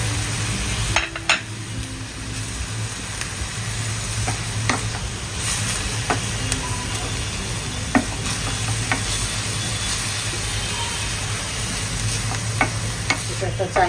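Ginger garlic paste sizzling and being stirred in a hot pan, a steady, close frying hiss with occasional scrapes of the spoon, no talking.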